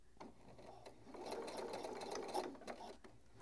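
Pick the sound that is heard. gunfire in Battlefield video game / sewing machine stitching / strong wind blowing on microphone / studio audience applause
sewing machine stitching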